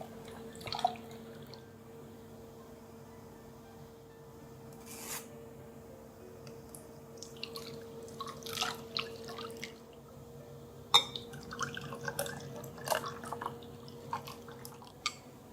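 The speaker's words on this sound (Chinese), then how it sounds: "过筛2次。" Egg-yolk custard mixture for crème caramel pours through a sieve as soft, faint drips and small trickles. They come in scattered bursts against a quiet background, with no talking.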